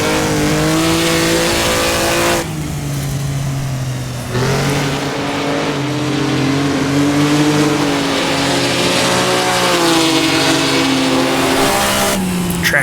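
A Maserati 250F race car in a sim racing game roars loudly and close, climbing in pitch, cutting briefly on each upshift including the change into second gear, then pulling hard again.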